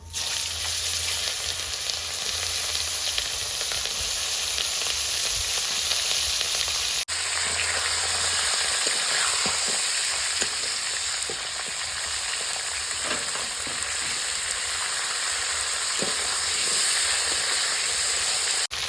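Cauliflower florets frying in hot oil with cumin for a fish curry, giving a steady, loud, close sizzle with crackles and occasional stirring scrapes throughout.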